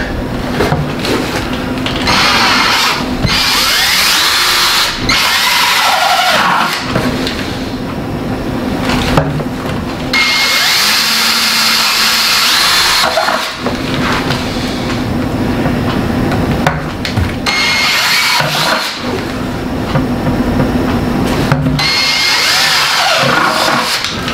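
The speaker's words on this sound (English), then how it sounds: "I'm using a wood blade just for the fact that it makes a cleaner cut" A power saw fitted with a wood blade cuts parts for a heated hanging chicken watering system, making loud, harsh grinding bursts that repeat with brief dips across the stretch, close up.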